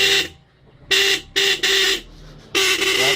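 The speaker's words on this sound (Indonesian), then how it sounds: "klakson hidup kembali" A repaired car horn sounds in four short, loud honks of uneven length, separated by quiet gaps, heard up close.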